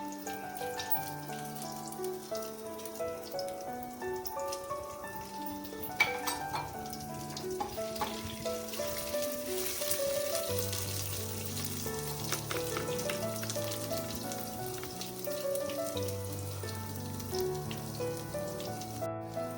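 Cloves, ginger and chilli sizzling steadily in hot oil in a pan while masala khichdi is cooked, a close continuous frying hiss with faint stirring and clinks and a low background hum.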